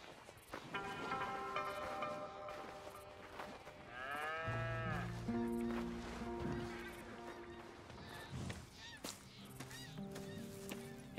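Ranch cattle in Red Dead Redemption 2 moo repeatedly, several long low calls overlapping, with a honking goose-like bird call in between and a steady outdoor ambience behind them.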